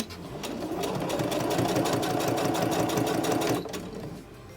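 A second-hand domestic sewing machine running at steady speed, a continuous close whirring buzz of rapid stitching that stops abruptly near the end, leaving a low hum.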